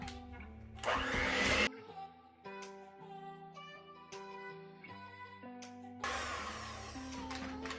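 An electric mixer blends almond flour batter for a keto chocolate pound cake, whirring in two loud bursts of about a second or two each over steady background music.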